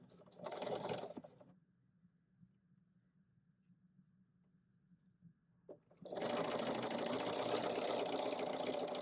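Sewing machine stitching close by, a short burst of rapid whirring followed by a few seconds of quiet, then a longer steady run of fast mechanical stitching, with no talking.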